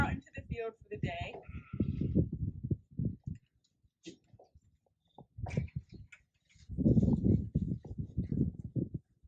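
Goats in a farm pen let out a few short bleats, mostly near the start, while a person talks through much of the clip.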